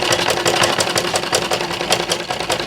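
A sewing machine stitches a welt pocket, running close and loud in a fast, even needle rhythm that stays continuous throughout.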